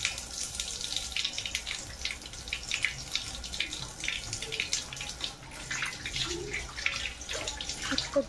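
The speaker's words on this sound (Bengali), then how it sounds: "হাতটা ধুয়ে নিচ্ছি।" Hands being washed under a running tap after rubbing in winter cream, a steady splashing water stream with small bursts and drips as the hands move, close and alone.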